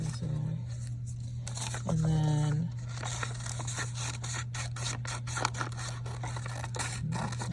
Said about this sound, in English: I'm going to cut this part off.